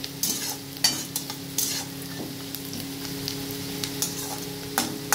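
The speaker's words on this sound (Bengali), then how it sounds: "সুন্দর করে ভেজে নিতে হবে।" Onions frying and being stirred in a pan for egg curry, with a steady background sizzle and repeated scraping strokes of the spoon at irregular intervals, close and moderately loud.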